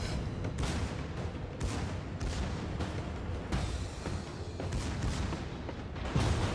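A battleship's rear gun fires in a naval combat video game. Dull booming shots and rumbling salvos come at an irregular rhythm over a steady loud roar of battle, with no talk.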